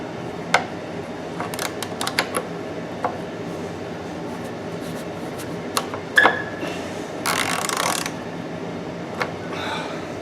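A ratchet wrench with a 21 mm socket works on a Citroën Berlingo during maintenance, giving sparse metallic clicks and clanks with a short burst of rapid ratcheting near the end.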